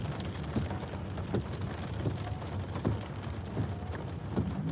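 Steady rain drums on a car while driving, a dense, even wash with faint low rumble and scattered patters throughout.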